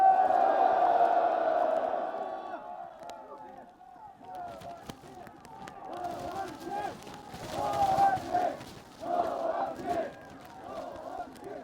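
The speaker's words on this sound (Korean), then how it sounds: "함성으로 환영해 주십시오." A large crowd at a Korean political reform rally roars and cheers to welcome the party's floor leader to the podium, a loud sustained swell of shouting and whooping that surges again in waves.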